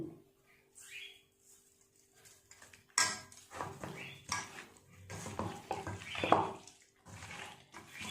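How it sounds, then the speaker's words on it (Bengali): Chicken pieces are kneaded with spices and salt by hand in a bowl, making wet squelching and slapping sounds in uneven bursts, close up, with short pauses between handfuls. "হাত দিয়ে এইভাবে ভালো করে মাখালে প্রত্যেকটা মাংসের গায়ে খুব ভালো করে মশলাটা লাগবে"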